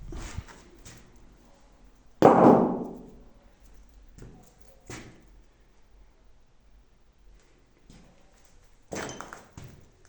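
Tangled scrap metal, largely aluminium wheel rims, is dropped onto a weighing scale, giving one loud clattering metallic crash followed by several lighter knocks and thuds in a quiet yard.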